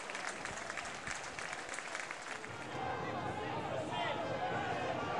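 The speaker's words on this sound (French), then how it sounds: "Il sort sur civière sous les applaudissements de Guy Boniface" A rugby stadium crowd at a French Pro D2 match between Mont de Marsan and Nevers applauds an injured player leaving on a stretcher, faint sustained clapping that swells into broader crowd noise, with commentary over it.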